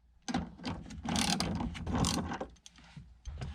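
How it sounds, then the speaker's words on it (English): A 14mm socket ratchet works a seat belt bolt loose inside a Honda Fit, giving close, loud bursts of rapid clicking pawl strokes in several separate runs with short pauses between them. "we're going to remove the seatbelt using a 14mm socket."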